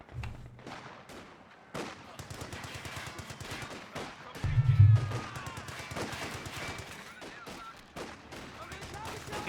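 Rapid, sharp shots crackle in irregular bursts on a Company of Heroes 2 battlefield, where an officer fires an M1911 pistol amid surrounding gunfire and a heavier thump near the middle.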